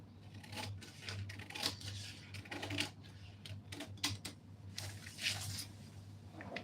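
Scissors cutting through dress fabric while drafting and cutting a fitted dress, producing quiet, irregular snips and crisp rustling spread throughout, faint and close.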